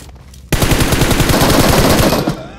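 A rapid burst of automatic gunfire comes from a mobile battle-royale shooter. It breaks out suddenly after a quiet moment and rattles loud and close for about two seconds in a steady stream of shots.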